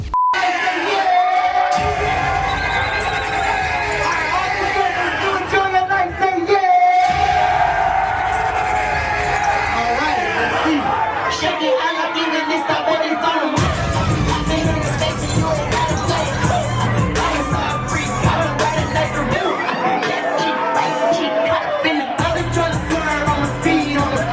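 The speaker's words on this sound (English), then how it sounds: "I mean, you got a decent sized crowd" A large crowd yells and cheers throughout, a dense roar of whoops and shouts with a few bangs and music-like tones mixed in, loud and close at a rap show.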